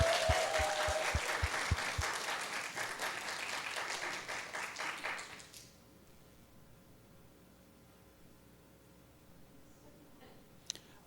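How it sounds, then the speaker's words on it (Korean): Church congregation applauding to welcome a child presenter, a dense spread of clapping for about five seconds that quickly fades into near silence, with a faint click near the end. "박수로 우리 친구를 환영하기를 바랍니다"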